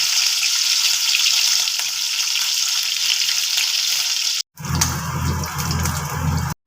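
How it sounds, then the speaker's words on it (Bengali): Small mourala fish frying in oil on a gas stove turned to high flame, a loud steady hiss and sizzle that cuts out briefly before resuming with a low rumble beneath. "অল্প মাছ তেলে দিয়ে এবার আমি গ্যাসটা ফ্লেমটা হাইয়ে দিয়ে দিচ্ছি যাতে মাছটা ভালো ভাজা হয়"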